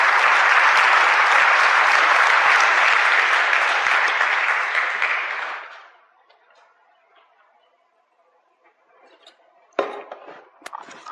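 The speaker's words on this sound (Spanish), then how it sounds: "Den un aplauso al Señor." A church congregation gives a loud round of applause to the Lord, dense sustained clapping that fades out after about six seconds into near quiet, followed by a few scattered knocks and taps.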